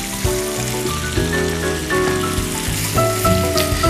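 Water hits a pan of fried, reddened onions and sets off a steady, loud sizzle and crackle. Background music plays under it, and no voices are heard.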